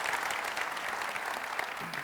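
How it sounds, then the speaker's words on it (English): Dense, even applause from a conference audience fills the room, steady and unbroken throughout. "Round of applause, please."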